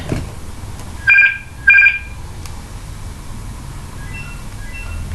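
A phone rings in two short electronic bursts a moment apart over a quiet room hum, followed by fainter beeps.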